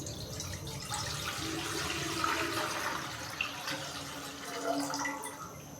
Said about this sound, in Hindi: अभी कढ़ाई के अंदर मैं तकरीबन 6 से 7 गिलास पानी डालूँगा